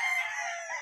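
A high caliber gray gamecock crows once, a short, bright, strained call heard close and alone.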